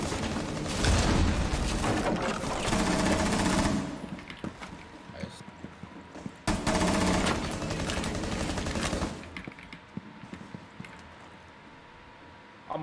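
Rapid gunfire in the video game Rainbow Six Siege, with loud bursts of automatic fire and single shots over roughly the first half, then quieter scattered shots and game noise. A voice can be heard faintly under it.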